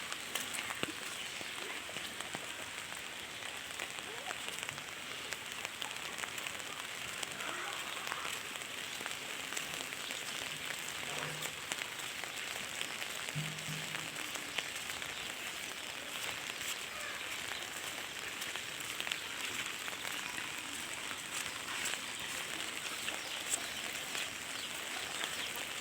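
Heavy storm rain in Laos, a faint, even, continuous hiss of falling rain and drops on surfaces throughout, with no voices.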